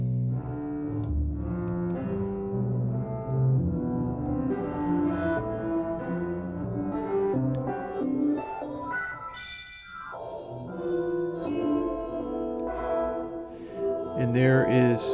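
A musical passage played through the Airwindows hall reverb plugin at its normal size, steady dense tones with a washy reverberant tail, moderately loud and continuous with no one talking.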